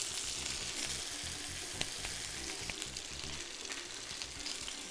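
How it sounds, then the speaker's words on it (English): Salmon fillets fry in a pan for a glazed teriyaki dish, giving a steady, close sizzle with small pops and crackles throughout and no voices. "I'm going to let these cook on the other side for about 3 to 4 minutes"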